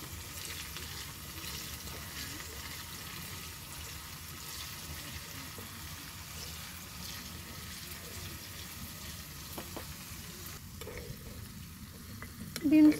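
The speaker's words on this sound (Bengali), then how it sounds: "বিনসগুলোকে ভেজে নিচ্ছি প্রথমে।" Green beans fry in oil in a wok with a steady, soft sizzle and occasional stirring scrapes, quiet and continuous throughout, with a brief louder clatter at the very end.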